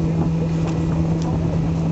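A tugboat escorts a submarine into port in New Haven, heard as a continuous low engine drone and rumble mixed with wind buffeting the microphone outdoors.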